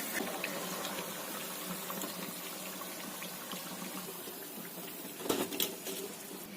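Maida biscuits fry in hot oil, giving a steady, dense sizzle with fine crackling throughout and a brief louder bubbling burst near the end.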